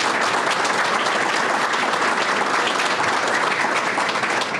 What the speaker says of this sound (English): Let's give a big round of applause to our 8 candidates